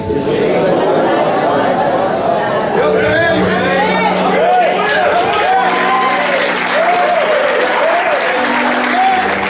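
A church congregation claps for Jesus during a sermon, a dense, loud, sustained round of applause with crowd chatter and a preacher's voice rising over it.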